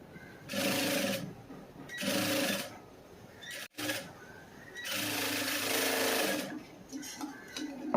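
A sewing machine stitches the front part of a cross-cut blouse in close, steady runs, three separate bursts of rapid whirring with short pauses and a click between them.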